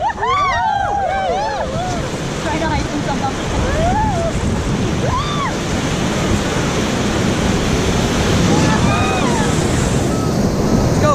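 Whitewater roars steadily on the White River near Shotgun Rapid during a rafting trip, a loud continuous rushing wash with wind buffeting the microphone and a few faint whistling tones over it.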